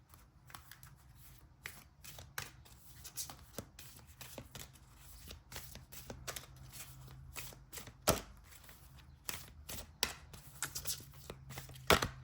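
Tarot cards being shuffled by hand in quick irregular bursts of soft riffling slaps, close and fairly quiet, with no talking.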